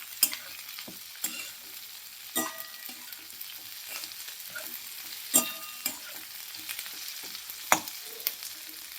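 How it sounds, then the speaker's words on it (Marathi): Chillies roasting in a pan with onion, garlic and cumin, a continuous low sizzle broken by regular scraping and tapping of a spatula, close and fairly quiet, with no voices. "या कांद्याबरोबर आणि लसूण जिऱ्याबरोबर आपल्याला ही मिरची भाजून घ्यायची आहे"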